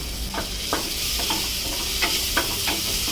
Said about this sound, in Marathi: त्यामध्ये हा कांदा थोडा भाजून घेऊया आपण